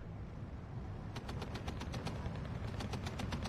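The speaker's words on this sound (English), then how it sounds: "The P-39 Cobra is being suppressed by all the 50 cals." .50 cal machine guns firing in the Steel Division 2 video game: a steady, rapid, distant rattle of bursts over a low rumble, with no voices.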